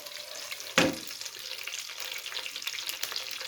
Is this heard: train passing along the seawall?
no